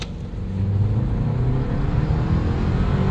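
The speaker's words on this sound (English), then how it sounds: "Let's see how it accelerates." A turbocharged hybrid Toyota Land Cruiser with an 8-speed transmission accelerates hard. Its engine note builds in the first half-second, then holds as a loud, steady, close drone with no speech.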